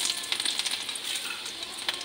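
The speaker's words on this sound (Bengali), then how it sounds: "এবার রসুন কুচি একটু দিয়ে দিলাম," Chopped garlic hits hot oil in a pan for a chilli chicken dish, giving a close, continuous crackling sizzle with quick popping spatters throughout.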